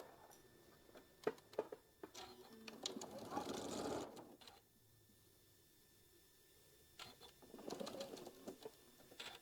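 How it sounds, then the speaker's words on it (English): A sewing machine runs a quarter-inch quilt seam in two bursts of whirring stitching separated by a quieter pause, with light clicks and handling noises around it, close up. "we're going to go ahead and sew our 1/4 inch all the way down"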